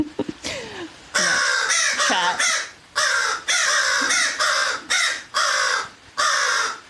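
Concerned crows at an animal keeper talk give repeated loud, harsh caws in an uneven series of close calls, with a brief spoken word near the start.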